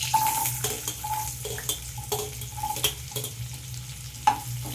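Carrots being stirred in a frying pan for vegetable dal, a low sizzle under repeated scraping strokes and light metallic clinks of a spoon against the pan, close and rhythmic.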